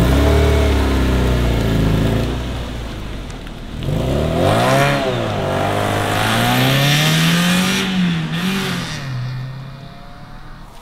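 A Renault Mégane 1 RS turbo accelerating hard, its engine note rising through the gears with shifts in between, loud and close throughout, with no talking.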